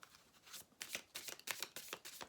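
Tarot cards shuffled by hand in quick riffling bursts, close and crisp, with short pauses between passes and no talking.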